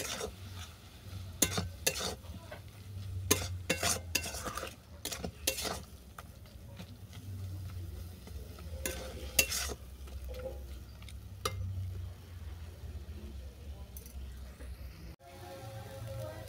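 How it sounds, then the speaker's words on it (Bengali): Spiced snake gourd filling is stirred and sautéed in a pan, with a soft sizzle beneath repeated scraping and tapping of a spoon against the pan, close and fairly quiet. "এরপর এগুলোকে ভালো করে কষিয়ে আমি একটা শক্ত পুর বানিয়ে নিচ্ছি।"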